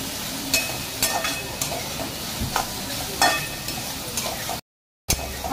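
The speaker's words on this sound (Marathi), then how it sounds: "अशीची मुळ्याची चटणी 5 मिनटं तुम्ही फ्राई करत रहा, खाली लागली नाही पाहिजे चटणी।" Radish chutney frying and being stirred in a pan, with a steady sizzle and scraping spoon strokes throughout, broken by a brief silent gap near the end.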